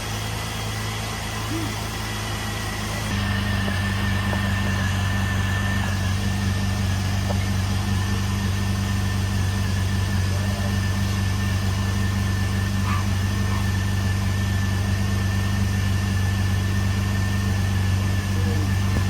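A Jeep Liberty engine rumbling low, then starting up after two years unused and settling into a steady, loud idle with a constant hum and faint vibration.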